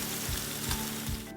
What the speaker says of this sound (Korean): 그리고 기름을 두른 팬에 노릇하게 구워냅니다